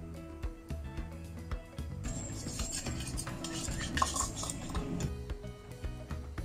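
A utensil scrapes and clinks around a pan in steady stirring strokes, stir-frying mustard greens and meat, with faint sizzling underneath and no voices.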